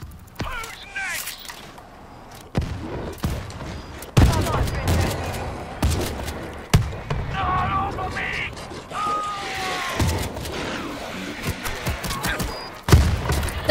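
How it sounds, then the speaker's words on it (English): Gunfire bursts in the World War Z video game, Jerusalem episode, with sharp shots and thuds scattered across a busy mix while players talk over the action. "They're absolutely just shooting me up."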